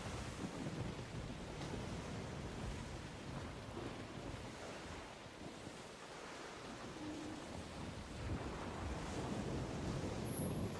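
Stormy sea in the video game Skull and Bones: a dense, steady roar of crashing waves and gusting wind fills the whole stretch, loud and unbroken, with surges of surf rising and falling.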